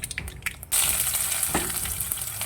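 Mustard seeds hit hot oil for a chickpea sundal tempering, with a quiet start and then a sudden loud burst of close, steady sizzling and spattering crackle that holds to the end, with no talking.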